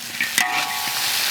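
Spicy chicken with chilies is stir-fried in a wok with a loud, close sizzle and a brief scraping clatter as the food is tossed, then a steady hiss.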